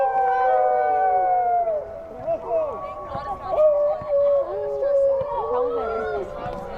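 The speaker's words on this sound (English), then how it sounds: "You hear the wolf howls here." Fans at a girls' soccer game howl like wolves in a chorus of overlapping, wavering rising and falling voices, loud and close, with crowd chatter underneath.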